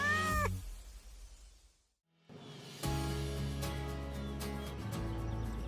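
A pet cat meows briefly at the start, then falls silent; after a pause, a steady low hum and clatter of home renovation work on a cat tree with carpet and rope take over.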